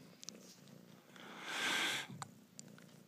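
A contented cat purrs close by as a soft, continuous rumble, with a brief louder hissy swell in the middle and small clicks and rustles around it.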